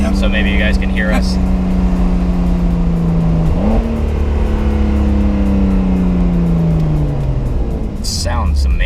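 A 2020 Porsche 911 Carrera 4S 992 cabriolet driving with the top down, a steady droning exhaust note that dips and rises as revs shift, heard from inside the cabin with voices faintly over the engine and wind.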